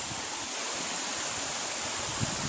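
River water flows at a forest confluence where two rivers join, a steady, full rushing wash that holds evenly from start to finish with no voices over it.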